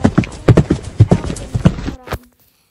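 A horse ridden bareback at a stable clip-clops in a loud, close, steady rhythm of hoofbeats for about two seconds, then stops abruptly into silence.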